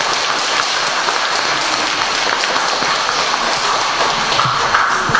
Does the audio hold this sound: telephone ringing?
no